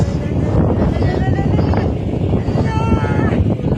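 Strong wind buffets the microphone on a mountain cliff during a motorbike ride, a loud rough rumble that persists under people's talking.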